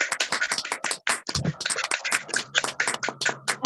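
Scattered, uneven hand claps from several participants coming through an online video call, celebrating student photography presentations, with sharp close taps and no talking.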